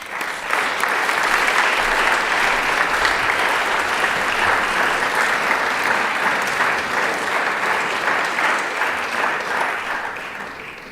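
An audience applauds at the Constantin Brâncoveanu awards gala in Paris, 2019, with sustained, even clapping from a large hall crowd for about ten seconds that fades slightly at the end.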